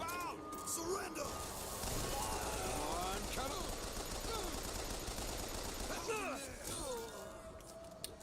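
Machine gun fire in the BioShock Infinite video game, a sustained rapid burst of loud gunfire with crashes and game effects, with people talking over it throughout.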